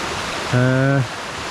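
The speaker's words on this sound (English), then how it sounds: "get a nice big close-up shot of that waterfall" Waterfall in Upper Pucks Glen: a steady, close rush of falling water, continuous throughout, briefly overlaid midway by a short voiced tone.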